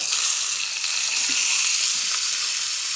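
Pork or brisket pieces sizzle in hot fat as they are flipped with tongs, a loud, steady, close frying hiss with faint clicks of the tongs, no speech.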